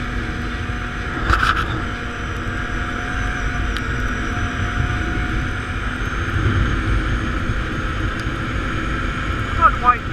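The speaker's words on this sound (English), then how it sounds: "You more hear more of that belt line over the engine than anything else." A Can-Am Outlander 800 XTP ATV engine drones steadily throughout while riding, with a sustained whine from the drive belt riding above it, fairly constant in level.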